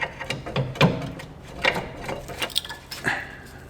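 A brake pad on a 2008-2021 Dodge Grand Caravan rear caliper is levered out against the rotor edge, giving a series of sharp metallic clicks, scrapes and ratchety knocks, close and moderately loud, with no talking.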